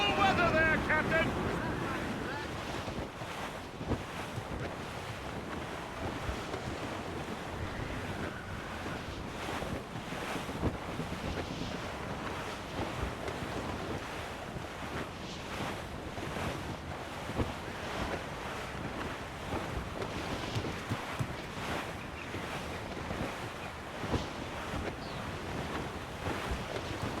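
Stormy sea in Assassin's Creed Rogue, with continuous roaring wind and crashing waves around a sailing ship, loud and dense for the whole stretch, with faint voices near the start.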